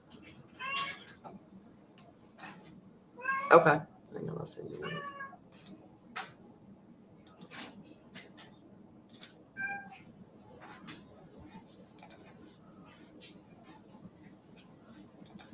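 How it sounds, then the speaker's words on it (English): A pet cat meows several times in short bursts, clear and fairly close, in a quiet room, with a person talking intermittently over and between the calls. "You can hear him meowing."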